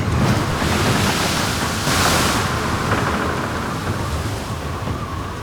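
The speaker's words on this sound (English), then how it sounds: "Hours pass as the Marine Electric endures lashing rain and heavy seas." Heavy seas crash and roar under a steady howling wind and lashing rain at sea in a storm, a loud continuous wash with surging swells and no voices.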